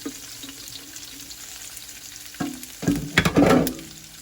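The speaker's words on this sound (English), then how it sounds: "we are going to add our peppers to the pan" Peppers dropped into a hot pan for sausage and peppers pasta, a quiet hum giving way to a burst of loud sizzling and clattering stirring near the end, close up and without speech.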